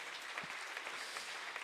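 A church congregation claps together in praise during a worship service, a dense, steady patter of many hands that holds evenly throughout at moderate distance.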